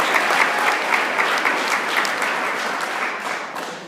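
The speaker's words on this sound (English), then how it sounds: "let's give Tribal College Journal a round of applause" Audience applause fills the room at a poetry slam, a dense, steady clapping from many hands that holds at full strength and then slowly fades toward the end.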